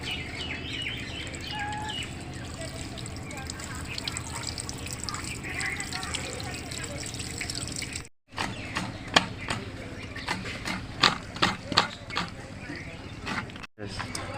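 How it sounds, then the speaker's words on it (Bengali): Hilsa fish washed under running water, a continuous close splash and trickle with clinks and creaks of handling, later giving way to sharper scattered knocks and drips. "আমি এবার মাছটা ভালো করে ধুয়ে নেব।"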